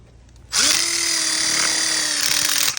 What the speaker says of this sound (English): with these self-tapping screws, they just go right in and hold this together